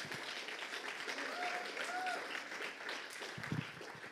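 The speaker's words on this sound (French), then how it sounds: "Est-ce qu'on peut donner un bon applaudissement au Seigneur?" A congregation claps together during a French-language church service, a soft, steady patter of applause heard from some distance under a faint murmur of voices.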